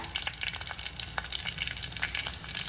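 Crushed garlic sizzling steadily in hot coconut oil, a constant crackling hiss with small pops and a faint stirring clatter, close by and without voices.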